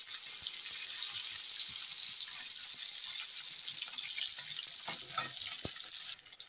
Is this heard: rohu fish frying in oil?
yes